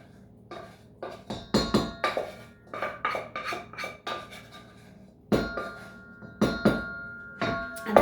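A utensil stirs thickener mixture into a pie filling in a bowl, producing repeated close clinks and scraping knocks against the bowl in uneven bursts, with no voices.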